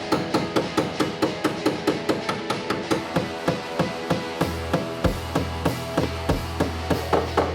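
A non-metal hammer knocks out a deep crease in a classic car's body panel, striking in a steady, even rhythm of close, sharp blows, about two or three per second, with no talk.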